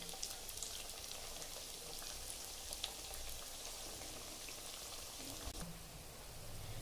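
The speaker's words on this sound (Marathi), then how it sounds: "मी तेलात तळते आहे" Dal baati frying in hot oil, a steady dense crackle and sizzle with scattered sharper pops, continuous and close throughout without any talking.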